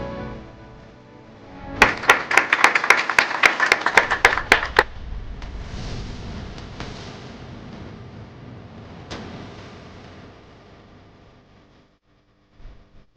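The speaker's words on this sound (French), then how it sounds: "Sur vos applaudissements, s'il vous plaît." A small crowd at a company contract-signing ceremony with Huawei in the DRC gives a short burst of sharp, scattered hand claps, roughly a dozen, that stops abruptly, followed by quiet room tone.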